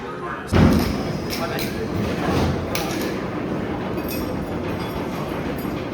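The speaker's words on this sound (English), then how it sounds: "Here comes my train." A heavy thud, then the steady rumble and rattle of an amusement park ride train rolling into the station at Dorney Park, with people talking over the noise.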